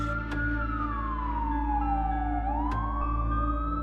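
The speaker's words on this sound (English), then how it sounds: "Police sirens echo, the chase resumes, but he's outnumbered and cornered" Police siren from the Wrestling Empire video game, a single long wail sweeping slowly down then back up, steady and moderately loud over a constant low hum, with a couple of sharp clicks.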